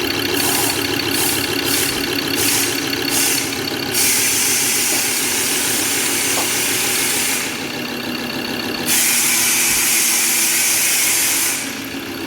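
A Ford Ranger 3.2 diesel engine starts and runs roughly with a misfire, a loud, steady close-up rumble with hissing layered over it and a few brief shifts in tone.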